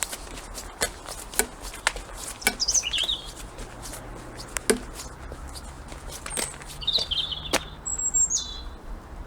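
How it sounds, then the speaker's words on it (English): Robins singing in a garden tree, short high chirps and warbles at a distance, mixed with scattered clicks and rustling nearby. "Old robins singing up in the tree."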